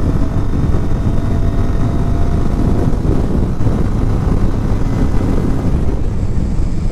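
A Bajaj Pulsar 125 motorcycle ridden on the road, a loud, steady engine drone mixed with heavy wind rush and no clear change in pace.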